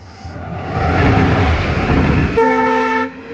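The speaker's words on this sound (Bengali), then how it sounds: "আর রেল আইতাছে একটু দাঁড়ান লাগবো সাইডে" A passing train in foggy countryside near Agartala rumbles loudly and steadily close by, then gives a sustained horn blast near the end before the sound drops away.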